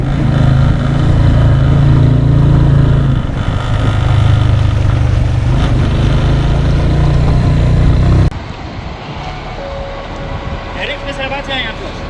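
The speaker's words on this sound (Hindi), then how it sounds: "मोटरसाइकिल पे मोटरसाइकिलों पे।" Motorcycles run along a mountain road in the Chapursan Valley, a loud close engine drone dominating for several seconds before dropping to a quieter, more distant rumble, with people talking over it.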